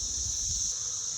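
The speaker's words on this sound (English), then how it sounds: "They've got bees coming and going like crazy." Honeybees hum steadily among stacked beehive boxes in an outdoor bee yard, a dense continuous buzz of many insects coming and going close by, with no talk.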